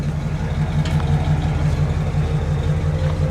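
A deep, steady idle from a 1967 Ford Galaxie 500 convertible's 428 cubic inch V8 with a low rumbling dual-exhaust pulse, continuous and close, with no voices.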